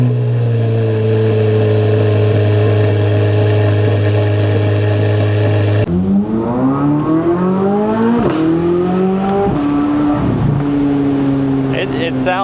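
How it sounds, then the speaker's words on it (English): A 2024 Chevrolet Corvette Z06 Z07 convertible engine drones loudly at steady speed, then drops and climbs through repeated throttle rises and gear changes while driving, close and powerful. "So this is the last drive of my 2024 Chevrolet Corvette Z06, Z07 convertible."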